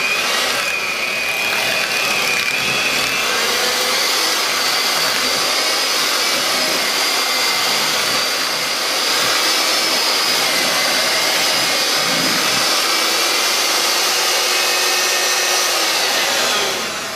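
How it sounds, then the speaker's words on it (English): An electric mixer creams butter and sugar for chocolate chip cookie dough, a steady, loud, whining motor hum running without pause for about seventeen seconds. "you start out by creaming your butter and sugar together"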